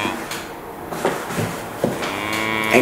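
Cows lowing at a farm on a family day out, several separate moos spread across a few seconds, mid-distance, with faint voices and knocks in the background.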